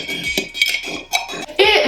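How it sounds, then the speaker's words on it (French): A spoon stirs a homemade drink in a small container, giving bright clinks and scrapes against the sides in a short, uneven run close to the listener. "Je vais prendre une cuillère pour touiller dedans."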